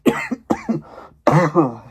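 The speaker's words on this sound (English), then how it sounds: "cough" A few sharp, close coughs come in quick bursts, followed by a harsher, throaty cough after a short pause.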